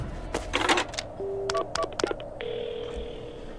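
Touch-tone phone keys are pressed in a quick series of beeps followed by a steady dial tone, as a call is placed to an ambulance in the horror adventure game Paranormasight.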